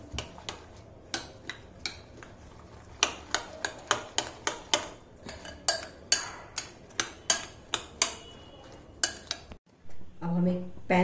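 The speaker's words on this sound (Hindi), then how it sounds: "इसे अच्छे से फेंट लेंगे।" Eggs are beaten in a bowl for an egg-on-eggplant dish, producing a run of sharp, rhythmic clicks of a utensil against the bowl that pause near the end as a voice briefly comes in.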